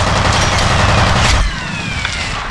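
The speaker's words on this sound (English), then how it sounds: "they're all shooting and moving at the same time." Enemy soldiers firing guns in the video game F.E.A.R., a loud, dense burst of rapid automatic gunfire with overlapping shots that thins out about halfway through, no voices.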